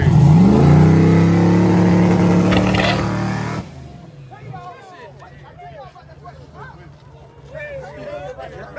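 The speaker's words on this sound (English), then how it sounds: "Late night street race." A car engine revs hard at a late night street race, a loud rising roar that cuts off abruptly, followed by a crowd of people talking and shouting nearby.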